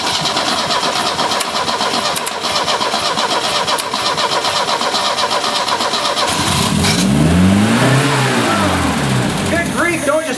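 An Opel GT engine cranks and catches after sitting for 30 years, then revs loudly in rising and falling sweeps toward the end, with people talking over the steady background noise.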